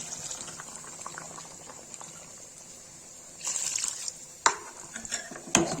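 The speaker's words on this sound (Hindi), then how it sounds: "इसमें पानी डाल देंगे।" Water splashes into a cooking pot of potato and bean curry in a brief rush over a soft sizzling background, followed by a couple of clinks of utensils against metal.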